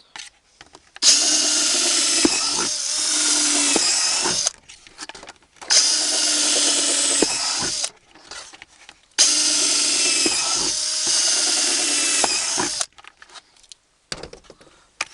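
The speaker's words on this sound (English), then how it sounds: "drill them in random order around the sides of the bucket." A power drill whines in three long bursts separated by short pauses, biting through the side of a plastic bucket with a buzzing, grinding edge, close up.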